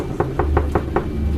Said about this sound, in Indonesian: ada suara ketukan pintu di depan kamarku